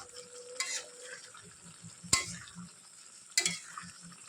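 Muri ghonto, a Bengali fish-head and rice dish, being stirred in a cooking pot, soft sizzling under a few sharp metallic clanks of the spoon against the pot at irregular intervals.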